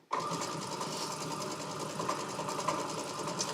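Sewing machine stitching the last strip of a quilt, starting abruptly and then running in a steady, even mechanical whir with rapid needle chatter, close and continuous without talk.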